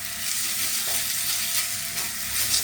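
Vegetable roll stuffing with a spoonful of tomato ketchup is stirred in a hot pan on a gas stove, giving a loud, steady, close sizzle with soft scraping strokes and no talk.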